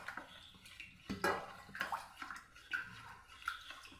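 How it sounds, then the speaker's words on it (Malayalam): A spoon stirs arrowroot powder mixed with water in a pan, giving soft repeated scraping and clinking taps with faint watery swishes, close and quiet. "വെള്ളം ചേർത്ത് നമുക്കൊന്ന് കട്ടകളില്ലാതെ ഒന്ന് കലക്കിയെടുക്കാം."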